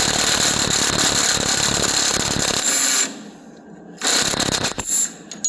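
An impact gun rattles against carriage bolts while they are removed, loud continuous hammering for about three seconds, a brief lull, then another short burst and scattered knocks.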